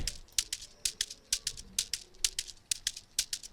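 A shaker plays a steady, crisp rhythmic pattern of bright rattling pulses, dry and close, with no voices.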